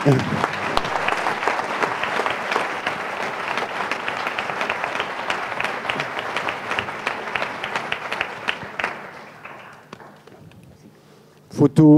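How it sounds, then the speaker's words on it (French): An audience applauds at an accessibility awards ceremony at a festival, a loud sustained clapping that gradually thins and fades, followed by a brief burst of nearby voices at the end. "Il faut les applaudir."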